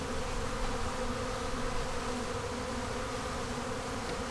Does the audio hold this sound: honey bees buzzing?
yes